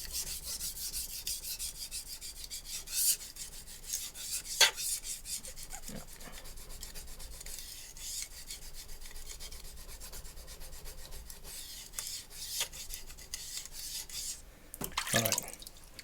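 Steady rhythmic rubbing of a utility knife blade stroked across a wet Shapton Glass whetstone, soft gritty scraping with occasional sharper clicks and drips, close and fairly quiet with no talking.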